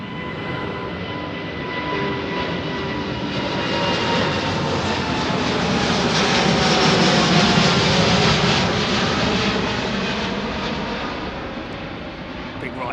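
A jet airliner departs runway 09R at London Heathrow and passes overhead, a loud, broad roar swelling to a peak midway and easing slightly toward the end, continuous throughout.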